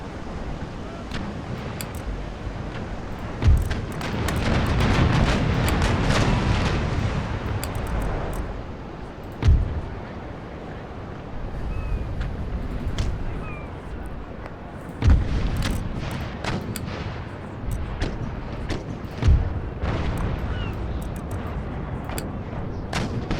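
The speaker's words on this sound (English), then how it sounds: "Great big battery of guns everywhere" Artillery battery firing in Empire Total War, several heavy booming cannon shots spaced a few seconds apart over a continuous rumbling battle bed with someone talking over it.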